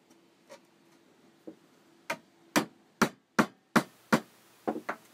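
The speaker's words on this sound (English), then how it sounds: "Here I'm just demonstrating a cheaper, simpler chisel, a bevel edged, which works perfectly well." A bevel-edged chisel is tapped with a mallet while cutting a mortise in wood for a large gate, giving about ten sharp, spaced knocks that grow louder and quicken toward the end, close and alone in a quiet space.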